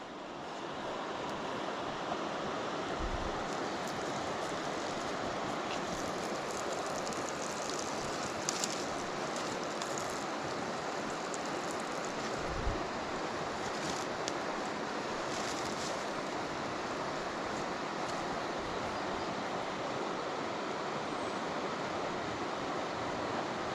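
Water lapping at the edge of Morralee Tarn, a continuous soft wash of small waves mixed with wind rumble on the microphone, steady and close, with no one speaking.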